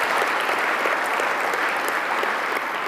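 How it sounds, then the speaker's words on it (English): A room of attendees at a medical ethics talk gives a professor a big round of applause, close and loud continuous clapping that is steady throughout with no speech over it. "let's give our Professor Alex van Heever a big round of applause"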